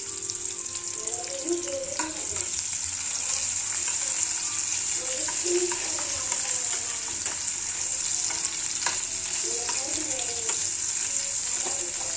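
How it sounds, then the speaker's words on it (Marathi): Onion slices sizzle steadily in hot oil in a pan for fried rice, a constant bright crackle close by with occasional stirring scrapes, no voices over it. "तेल तापलेलं आहे. त्यामध्ये आपण कांद्याचे स्लाइस टाकणार आहोत."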